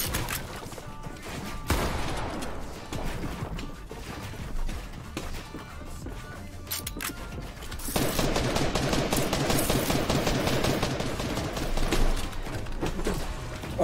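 Rapid bursts of gunfire in a video game, dense repeated shots with crashes, continuous and loud throughout, growing heavier in the second half.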